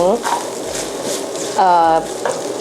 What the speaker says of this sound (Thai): ผัดเครื่องแกงกับน้ำมันก่อนนะคะ